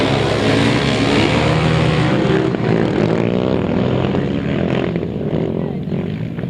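Grasstrack racing motorcycles rev hard as a race starts, a loud, dense engine roar holding steady throughout with layered harmonics from several bikes together.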